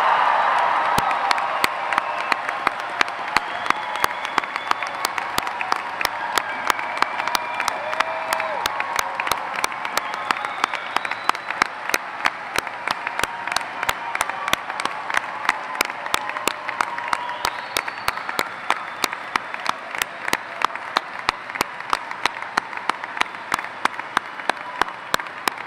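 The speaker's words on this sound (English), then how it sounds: "let's give the class of 2017 a resounding round of applause for all that they've accomplished" A graduation crowd at New Fairfield High School applauds the class of 2017 in long, sustained, loud clapping, with occasional cheers and whoops rising through the steady roar.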